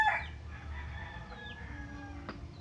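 A rooster crows once, a drawn-out call standing alone at moderate distance over a quiet rural background.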